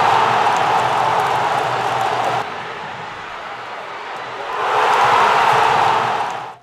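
Santa Cruz football supporters roar steadily in a packed stadium after a goal against Luverdense, a loud, dense crowd din that dips briefly and then swells again before cutting off.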